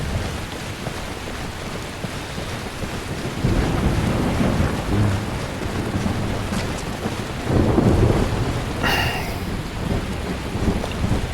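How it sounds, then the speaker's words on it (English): Thunderstorm in the video game Skyrim, with steady heavy rain and wind throughout and two deep rolling thunder rumbles building partway through, loud and close, no talking. "Okay, lightning, storm, stop it."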